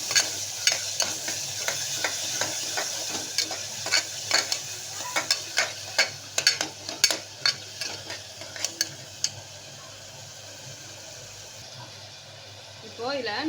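Ginger garlic paste is sautéed in a pan for mutton kuzhambu, with a steady sizzle and a series of sharp spoon scrapes and taps that stop near the end, leaving only the sizzle.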